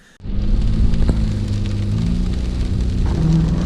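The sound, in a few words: rain starting to fall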